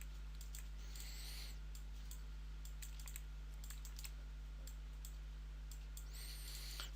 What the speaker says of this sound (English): just quickly click in here and create a joint chain. And then just move around, hit insert on the keyboard